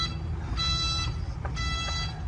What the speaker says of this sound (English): got a nice reverse beep, safety precaution beep